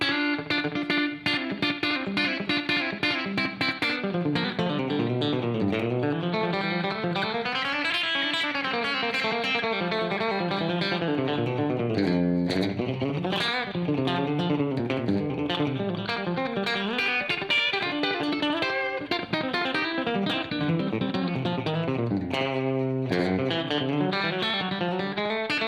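Electric guitar with a 90s Nashville tone, played through heavy effects, distorted and shimmering with chorus and reverb, chords and bends ringing steadily for a long stretch.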